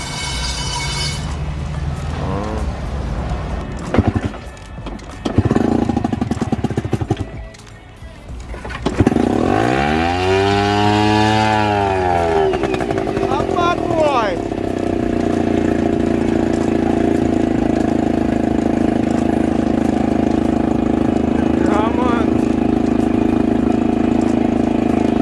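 A Jonny Boat Bass 100 outboard motor sputters through a few failed cranks, then catches with a rising roar and settles into a steady, close, continuous idle that runs on to the end.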